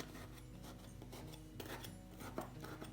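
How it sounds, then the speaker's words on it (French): A fork pokes holes into a freshly baked sponge cake, making faint, quick repeated rasping and scratching taps that come close together, quiet and without any talk. "à l'aide d'une fourchette, on va faire des trous de notre génoise."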